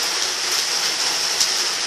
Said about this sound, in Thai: ตอนนี้รู้สึกเสียงเบาเพราะฝนตก